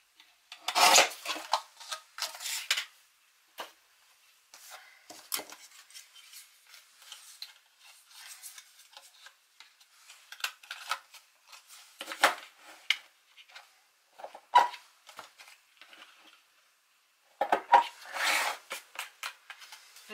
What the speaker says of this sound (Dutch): En dan ga ik dat hier eventjes opnieuw opschraven.